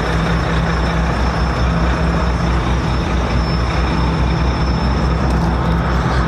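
Heavy vehicles rumble steadily nearby, a dense low engine drone of idling buses with a constant broadband roar and no break across the stretch.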